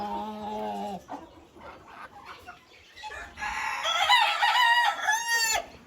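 Frizzle and Polish chickens, including a silver frizzle cockerel and a blue frizzled Polish, cluck and call up close, then a rooster crows loudly with a long, wavering cry near the end, with other birds calling in the background.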